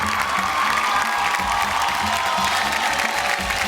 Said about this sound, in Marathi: जोरदार टाळ्या होऊन जाऊ दे जोरदार टाळ्या